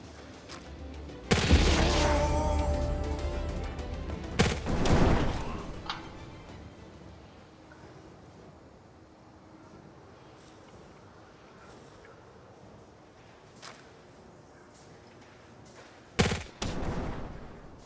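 A turret opens fire in a video game set on an oil platform, loud bursts of shooting at the start with a booming blast, then quieter ambience and a final short burst near the end.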